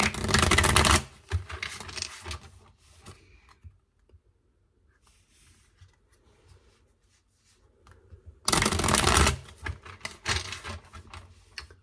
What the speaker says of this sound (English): I'm going to do some more shuffling.